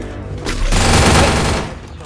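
Gunfire and explosive shots in the Free Fire battle royale game come as a loud, dense burst of rapid shots that swell and fade over about two seconds, with game noise underneath.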